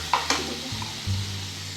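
Chicken curry is stirred and mixed in a sizzling pan, two quick scraping clinks of the spoon followed by a soft, steady frying hiss, heard close with no voices.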